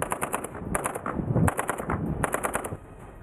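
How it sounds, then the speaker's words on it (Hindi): Soldiers in a Russian military exercise fire bursts of automatic gunfire while advancing inland from the shore, rapid cracking volleys repeating in several loud clusters. "किनारे पहुंचने के बाद ये जवान गोलियां चलाते हुए अंदर की तरफ बढ़ने लगे।"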